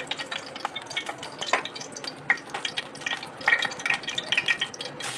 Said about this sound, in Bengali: আমটাকে ফ্রাই করে নেব